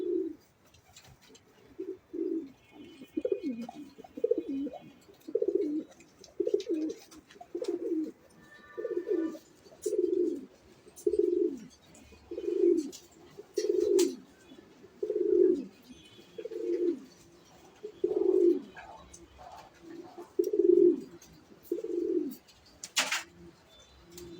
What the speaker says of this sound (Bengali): এগুলো হচ্ছে বেলজিয়াম ব্লাড লাইনের কবুতর।